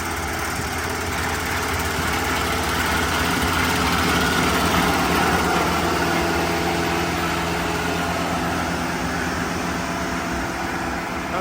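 A small two-row herb harvester runs steadily while cutting parsley and basil in a field, a continuous mid-pitched engine drone with mechanical rattle, moderately loud and unbroken throughout.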